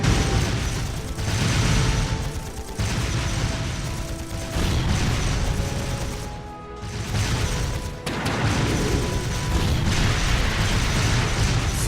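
Battle scene in Trails of Cold Steel 2, a role-playing video game: loud, dense gunfire and explosive bursts with mechanical clatter, sustained throughout with a brief dip before renewed booms.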